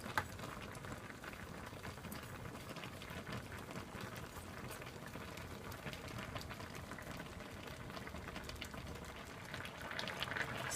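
Jamaican steamed fish with okra simmers in a pot over low heat, giving a faint, steady bubbling hiss with soft liquid pops that swell slightly near the end.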